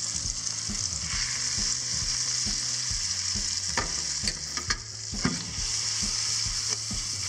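Steaks and shallots fry in a pan with a steady close sizzle, while rhythmic scraping and stirring strokes repeat throughout and no one speaks.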